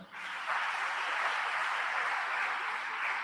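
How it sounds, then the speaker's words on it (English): An audience applauds panelists being welcomed at a management institute event in Goa, with steady, dense clapping that fills the room evenly from start to finish. "A round of applause, please."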